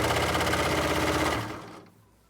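A sewing machine stitches over the tape seam of a drawstring bag, a fast, steady mechanical whir with rapid needle chatter, close and loud, then it slows and stops near the end.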